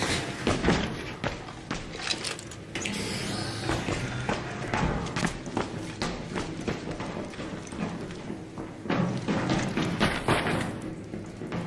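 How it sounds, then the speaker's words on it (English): Rapid, rhythmic thumping steps of a character climbing a ladder up to the surface in the video game Arc Raiders, close and steady, with dense clunks running through the whole stretch. "Climbing a ladder up to the surface."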